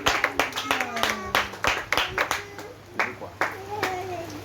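A church congregation claps along in a steady, rhythmic beat at a worship service, with voices singing and calling out over the claps.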